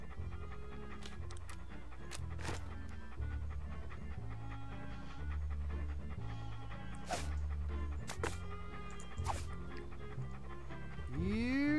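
A dog in the point-and-click adventure game Monkey Island 2 pants steadily for the whole stretch, mixed with game music and effects and a rising whoosh near the end.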